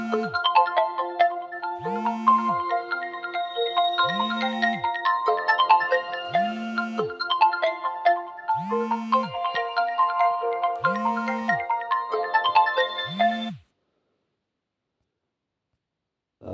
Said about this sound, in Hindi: फ़ोन आ गया था इसलिए नहीं कर पाए